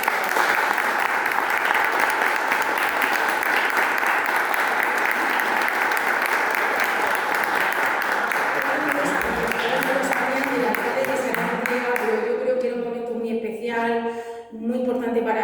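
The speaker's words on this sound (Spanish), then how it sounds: "Así que un aplauso muy fuerte." Loud, sustained applause from an audience at a Murcia book presentation marking the city's 1200-year history, dense clapping filling the room for about twelve seconds before thinning out as a voice begins speaking over it.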